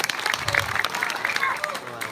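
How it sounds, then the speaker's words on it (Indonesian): Applause and crowd noise rise at a Calonarang performance at a Balinese temple in Gianyar, scattered clapping with voices mixed in, short and fairly loud. "Tepuk tangan yang meriah."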